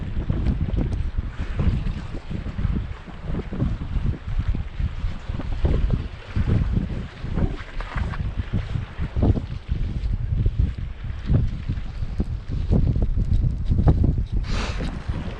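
Strong wind buffeting the microphone at a Rhode Island shoreline while fishing for striped bass, a constant loud low rumble with gusty surges throughout, masking any other sound.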